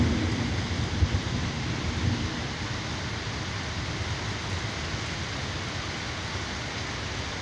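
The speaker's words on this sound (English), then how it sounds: "It's really coming down there, and lightning and thunder is loud." Heavy rain pours steadily in a dense hiss during a storm in Georgia, with a couple of low thunder rumbles near the start, no voices.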